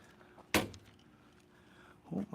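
A person bumps into a pickup truck, giving one sharp, loud thump with a short ringing tail, followed by quiet outdoor ambience and a second, weaker knock near the end.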